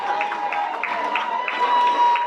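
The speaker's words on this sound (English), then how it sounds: "big round of applause again. Make some noise for La Petite Musicale." Audience applause and cheering at a live memorial tribute event, a steady mid-distance wash of clapping and crowd noise sustained throughout with light rhythmic bursts, no clear speech.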